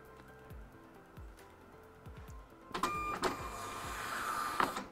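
A label printer prints product labels with a whirring mechanical feed, starting quietly with soft clicks and then running louder and steadier for the last couple of seconds, with no talking.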